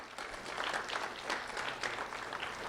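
An audience at a community honors event gives a round of applause, heard as a faint, distant and steady patter of clapping with no voices over it.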